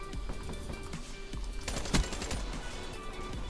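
A light machine gun hammers out rapid repeated bursts in the shooter Black Ops 3 on hardcore mode, loud and continuous with a sharp impact near the middle and no talk.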